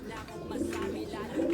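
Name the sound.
pigeon cooing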